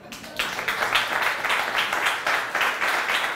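An audience at a presentation in a technical college breaks into applause, a burst of clapping that swells and carries on in uneven waves for a few seconds.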